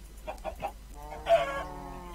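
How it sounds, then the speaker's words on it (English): Chickens clucking in a modded Minecraft video game: three short, evenly spaced clucks, then a longer drawn-out squawk, moderately loud over a faint background hum. "Ooh, found some chickens."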